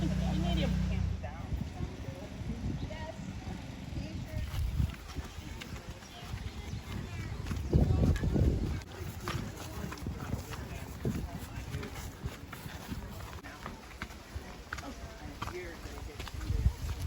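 Horse hooves clip-clop on a trail ride on Hawaii's Big Island, irregular footfalls of several horses under frequent talk from riders nearby.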